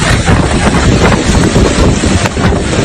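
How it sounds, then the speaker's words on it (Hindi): Storm winds roar in strong, continuous gusts along a coast where a boat lies wrecked, a loud broadband rush buffeting the microphone with no pauses throughout. "आप तूफान की आवाज भी सुन पा रहे हैं, गड़गड़ाहट भी सुन पा रहे हैं।"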